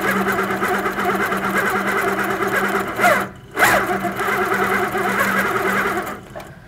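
An HQ Sweet Sixteen sewing machine stitches at 16 stitches per inch, giving a close, steady mechanical whir that pauses briefly and then resumes.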